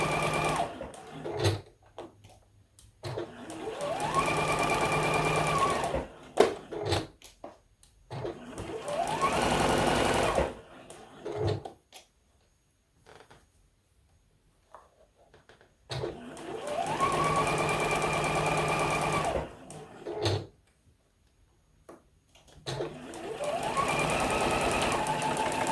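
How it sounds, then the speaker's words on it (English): Sewing machine stitching quilt blocks into rows for a Christmas tree quilt, running in bursts of several seconds separated by pauses, a steady mechanical whir close by with no talk. "sometimes I let the sewing machine remind me"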